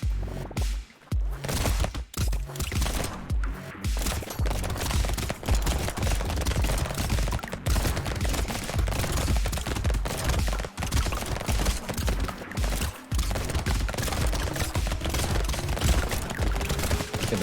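Relentless rapid gunfire from dual pistols, shredders and SMGs in the arena game Brotato, a dense nonstop rattle of overlapping shots with brief gaps, loud throughout.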